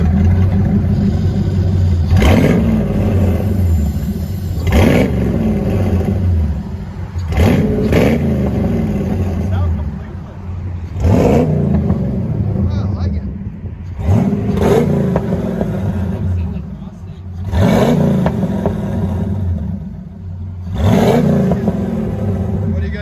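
A Ford Mustang with a 5.0 engine idles loudly and close by, with repeated sharp revs rising and falling every few seconds over a steady rumbling idle.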